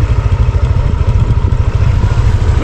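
Close, rumbling motorcycle engine labouring on a muddy cornfield track, a loud continuous low pulse with some rattling clatter mixed in.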